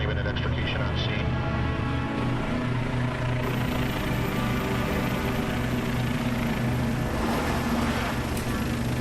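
A medical transport helicopter flies with a steady, loud rotor and engine drone that fills the whole stretch, holding constant and close throughout.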